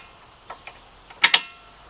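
A bolt loosened while changing the front shock absorbers on a Renault Koleos: a few soft mechanical ticks, then two sharp close metallic clicks like a ratchet, with no talking.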